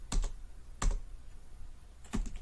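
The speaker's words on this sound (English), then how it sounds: "Now as I am typing" Three short bursts of computer keyboard keystrokes, brief clustered clicks separated by pauses, fairly close and crisp against quiet room noise, while entering a seat booking into a web app form.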